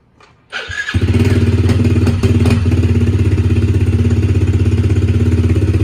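A motorcycle engine is started with a short sputter and then settles into a loud, close, steadily pulsing idle that carries on to the end.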